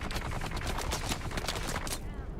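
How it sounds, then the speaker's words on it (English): Enemy machine gunners in Dune: Awakening firing loud, rapid sustained bursts of automatic gunfire, dense overlapping shots that cut off abruptly just before the end. "These machine gunners are brutal."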